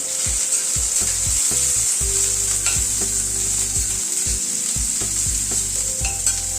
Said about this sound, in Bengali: তেলটা গরম হওয়ার পরে একটা উচ্ছে আমি কেটে নিয়েছিলাম সবজির সাথে, সেটা দেখানো হয়নি, প্রথমে সেটাকে ভেজে নিচ্ছি